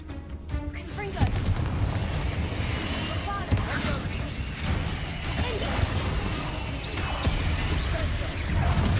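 A Confringo fire-blast spell in Hogwarts Legacy erupts in loud booming explosions amid a dense, continuous din of battle effects, with several sharp blasts spread across the stretch and a voice speaking over the clamor.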